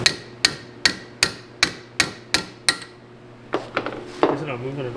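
Steady metal-on-metal hammer blows driving a punch to knock packed material out of a part, eight evenly spaced ringing strikes followed by a few looser, rattling knocks, close and loud.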